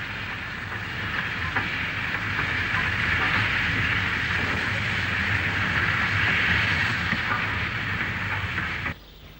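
A Grange class steam locomotive passing Oxley North Junction at Wolverhampton, a loud continuous rolling rumble and hiss of the train going by, steady throughout, with no voices.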